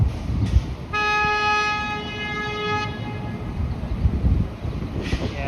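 A long sustained car horn blast rings out for about two seconds over a rumbling Toronto street in traffic, with shorter toots at the start and end.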